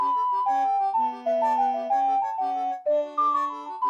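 Zelda video game town music for day two, sped up to 125 BPM: a bouncy chiming melody over short repeating bass notes, clear and steady, playing alone without speech.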